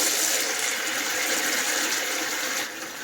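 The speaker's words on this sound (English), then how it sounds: "the water starts flowing and then the pump kicks in" Cold water rushes steadily from a kitchen tap in an Irish farmhouse, a loud close hiss with an EsyBox Mini 3 pressure pump running underneath, easing off slightly near the end.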